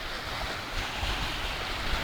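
Sea waves washing onto a sunny beach at Sibulan in Cebu, a steady broadband wash with low surges and some wind noise on the microphone, continuous and fairly close, with no voices.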